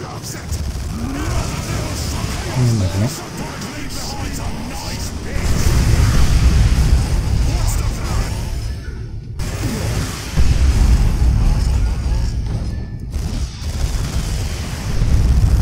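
Grenades go off as booming, rumbling blasts with heavy low-end crunch in the Warhammer 40k Dawn of War 2 Ork campaign, amid continuous battle din, with someone talking over parts of it.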